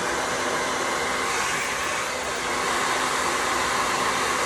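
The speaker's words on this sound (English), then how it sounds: "going backwards with a round brush and round brush and blow dryer is the best trick" A handheld blow dryer roars steadily while drying hair with a round brush, a close, loud, continuous airflow hum with no talk over it.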